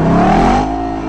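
A 2012 Ford Mustang Boss 302 V8 engine gives a loud, close, sustained rumble with a rich tone that holds steady, then eases slightly near the end.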